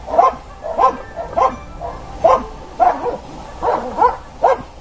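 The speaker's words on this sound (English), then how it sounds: "Think of a guard dog on alert." A dog barks in a steady series of about nine sharp, evenly spaced woofs, fairly close and loud, with no talk over it.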